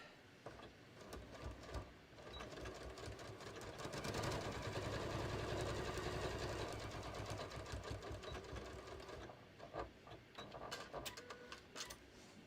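A sewing machine with a knee lift stitches a long seam down a beach tote, running in a steady close whir with brief pauses and slight surges in speed, no voices over it.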